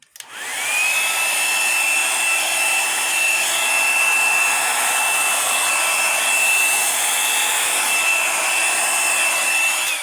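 An air blower pushes acrylic paint across a canvas for a Dutch pour, a loud, continuous rushing hiss with a faint high whine that rises as it starts and then holds steady, no voices.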